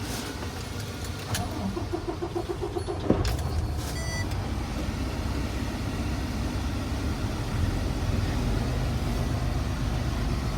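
A Kenworth T680 truck's engine cranks and catches after a key jingle and a few clicks, settling into a steady loud idle rumble with no talking.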